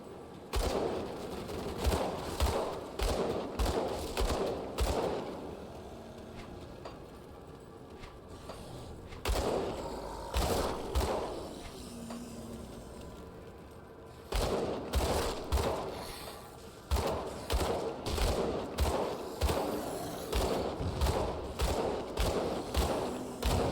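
Repeated gunfire from a gun in the video game Grim Dawn, rapid bursts of sharp shots in steady rhythmic volleys with short pauses between, loud and up front.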